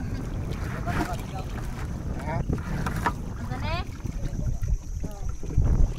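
Fishing boat pulling away on open water at sea, a steady low engine and water rumble with wind noise running throughout, voices talking over it.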